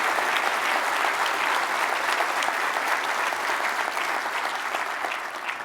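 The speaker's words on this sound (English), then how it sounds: "So Chris, can I get a round of applause for Chris?" Audience applause at a 2015 AOS leadership capstone event, a dense, steady round of clapping from a crowd that holds throughout and tapers only slightly toward the end.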